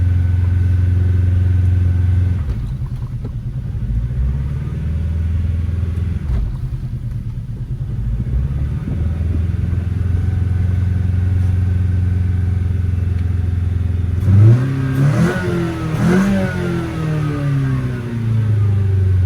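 An abandoned car's engine with a sticky throttle, idling roughly with a steady low rumble, dipping briefly, then revving up and falling back in repeated surges near the end, close and loud.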